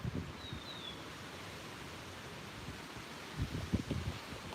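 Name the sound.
wind blowing through trees at a beaver pond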